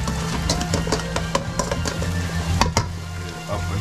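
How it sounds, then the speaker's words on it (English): Garlic sizzles in a pan, cooked Southeast Asian style, making a close steady frying hiss over a low background hum, broken by repeated sharp clinks and scrapes of a utensil against the pan. "Grilling, sauteing some garlic right now."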